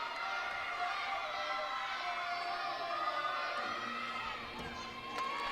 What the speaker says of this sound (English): she really has her teammates behind her cheering her on there